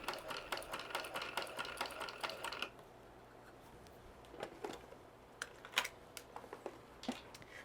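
A sewing machine stitches a vinyl wristlet at a short stitch length, running in a dense rapid burst for about two and a half seconds, then pausing to quieter scattered clicks and taps of handling.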